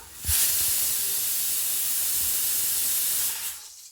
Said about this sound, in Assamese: দালি চিটি মাৰিছে